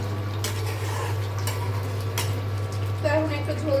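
A metal spatula stirring and cutting through tender cooked beef, potato and radish in a pan, with repeated scrapes and taps against the pan, close, while someone talks over it.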